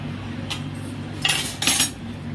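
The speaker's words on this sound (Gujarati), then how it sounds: "ને થાળી ચમચી મૂકલો ભગવાનની" A steel plate and spoons are set down, giving a few sharp metallic clinks and clatters in two quick bursts against a quiet room, close and clear with no speech.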